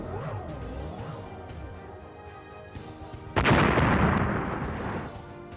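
Partway through, a massive nuclear bomb explosion sound effect erupts with a roaring, rumbling blast that slowly fades, following a stretch of quieter tonal sound.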